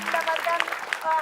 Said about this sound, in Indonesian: Kasih tepuk tangan Hai, buat tim B.